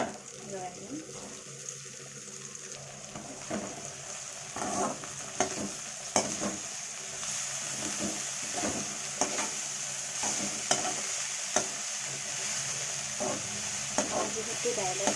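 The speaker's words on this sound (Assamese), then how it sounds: "এতিয়া মই কাটি থোৱা দিল্লী ধনিয়া দি লৰাই দিম।" Chopped coriander being stirred and fried in a pan, a soft sizzle under repeated scraping and stirring, fairly quiet with occasional voice in the background.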